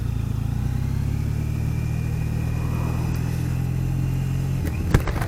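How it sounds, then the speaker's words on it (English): A 2012 Triumph Bonneville motorcycle pulls along a road under steady, loud engine drone with a rising throttle tone, heard continuously with wind rush; a brief knock near the end. "We can hear our acceleration."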